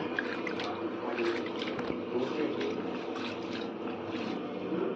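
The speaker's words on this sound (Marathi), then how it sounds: "स्वच्छ पाण्यामधून असं अशा प्रमाणात आम्ही धुवून घेतो" Urad dal is being rinsed in clean water, giving a steady close wash of splashing, trickling liquid throughout.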